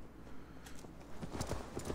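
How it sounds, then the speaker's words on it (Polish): Horse hooves clip-clopping in the Viking-era game Assassin's Creed Valhalla, a handful of soft, uneven hoof strikes building up toward the end over a low in-game ambience. "Jest konik, jest."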